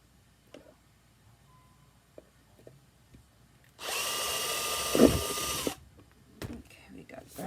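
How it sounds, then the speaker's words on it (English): A power drill bores a hole through the middle of a cardboard box, a loud steady whir lasting about two seconds, with faint handling noises before and after. "We're going to go ahead and flip the box, and we're going to drill a hole right in the middle."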